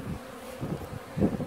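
Honeybees hum in a close, steady buzz around emptied honey supers after extraction, swelling and fading as individual insects pass near.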